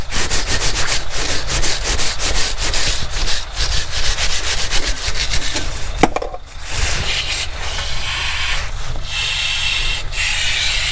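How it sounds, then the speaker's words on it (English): A wire brush scrubs VW Transporter brake parts during a disc and pad replacement, making a loud, continuous, rapid rasping scrape that pauses briefly partway through and then resumes. "bit of a wire brush action"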